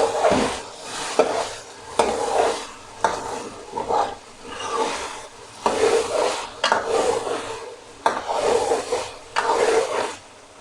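Cumin seeds being stirred into green masala chicken in a pan, with a steady scraping stir and sizzle in repeated strokes, fairly close and without any talk.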